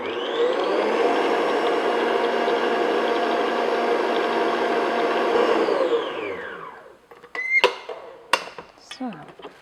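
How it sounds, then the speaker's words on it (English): An electric mixer beats key lime pie filling at medium-high speed, a loud, steady whir for about six seconds before it winds down and stops, followed by a few sharp clinks and taps. "continue to beat this on medium-high speed until really nice and light and fluffy"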